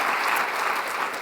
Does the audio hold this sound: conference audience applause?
yes